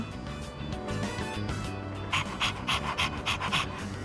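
The dog Koromaru from Persona 3 Reload pants rapidly in a steady rhythm, close and clear, with sharper breathy bursts coming in regular quick succession toward the end.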